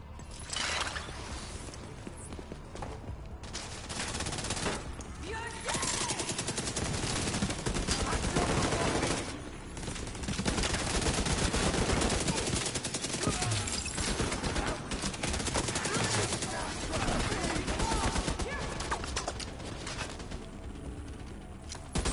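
Turrets fire nonstop in a video game, a dense, steady roar of overlapping automatic shots that holds loud for the full length with slight swells, a voice faintly beneath.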